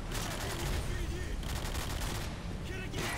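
Dense bursts of video game gunfire crackle steadily and fairly loud, with overlapping rapid shots like a firefight, while a voice talks over parts of it.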